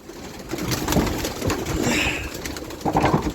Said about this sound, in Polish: wchodzimy do gojemnika karmimy gołębie